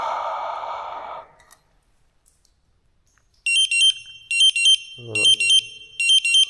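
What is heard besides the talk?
gas detector alarm triggered by breathing on it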